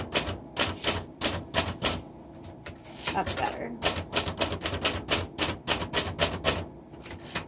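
Typing on a 1961 Royal Tab-o-Matic vintage manual typewriter: close, loud bursts of sharp key strikes in quick runs with a short pause mid-clip, and a person speaking briefly between the runs.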